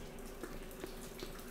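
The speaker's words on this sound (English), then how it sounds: "So this is, like, water." Water in The Forest survival video game gives a faint, steady rushing hiss with soft drip-like taps recurring about every 0.4 seconds, quiet and unaccompanied.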